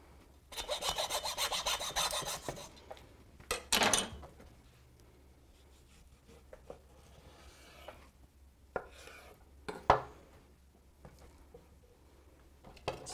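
Pork chops being cut by a butcher at a pig-butchering block, a dense burst of sawing and rubbing strokes near the start, a second short heavy stroke, then sparse knocks and scrapes in a quiet room.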